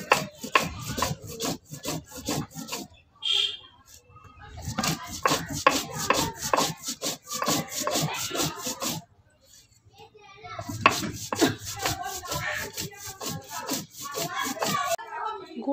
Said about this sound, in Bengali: আজকের মাছের রেসিপির জন্য 4-5 কোয়া রসুন, কাঁচা লঙ্কা আর একটু গোটা জিরে নিয়ে আমি বেটে নিচ্ছি